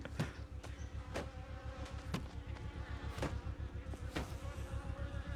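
A fly buzzes close by in a low, droning hum that wavers as it moves, with a few faint clicks in the background.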